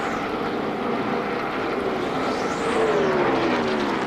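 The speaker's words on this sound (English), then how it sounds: "I think it's Kyle Petty's 45 car that's Sounding ugly." Kyle Petty's number 45 stock car runs rough at the Southern 500, its engine missing on a cylinder. A loud, continuous motor roar rises in pitch as the car passes, with no talk over it.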